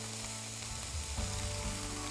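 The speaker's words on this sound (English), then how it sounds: "Now I'm just going to fry the tofu in a little bit of oil so it gets a little bit nice and crispy on the edges" Tofu fries in a little oil in a pan, a steady close sizzle that runs the whole time with a brief bump in the middle, and no talking.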